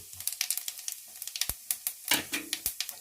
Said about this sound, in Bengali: আমি গোটা জিরে তেলের মধ্যে ফোড়ন দিয়ে দিলাম